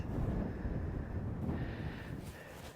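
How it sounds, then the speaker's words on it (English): Wind buffeting the microphone on a Scottish links golf course, a continuous low rumbling roar that swells and eases slightly, loud and close with no other clear sounds. "No, now I don't want the wind."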